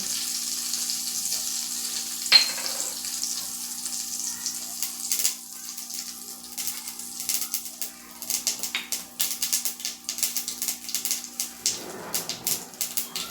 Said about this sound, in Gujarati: તેલ ગરમ થાય એટલે આપણે એમાં રાઈ એડ કરીશું